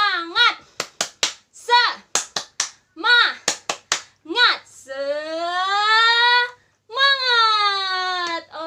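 Children chant and clap through a spirit clap routine at a Bible story session, sharp rhythmic hand claps in quick bursts between short shouted syllables, ending in long sustained cheering voices.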